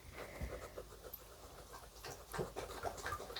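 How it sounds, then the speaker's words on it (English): A dog laps and pants at its water bowl up close, with wet, irregular slurps and breathy huffs scattered over a few seconds. "as my dog drinks his water"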